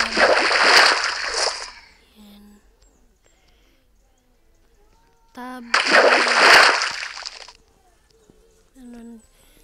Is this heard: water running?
yes